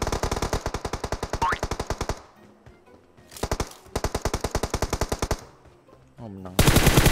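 Loud automatic gunfire in a squad shooter video game, rapid evenly spaced shots in long bursts separated by brief quieter pauses, ending with a sudden heavy volley.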